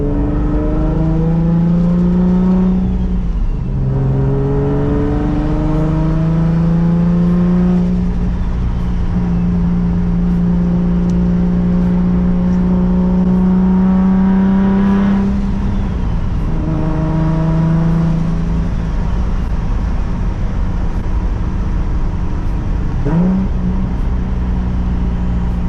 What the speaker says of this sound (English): Is the turbo dead, or are we maintaining boost?